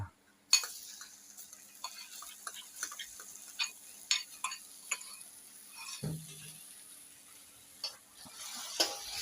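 Chilies stir-fried in a hot pan while cooking Thai squid with holy basil: a loud hiss as they drop in, then quiet sizzling broken by sharp scraping taps of a spatula, with one low thud partway through.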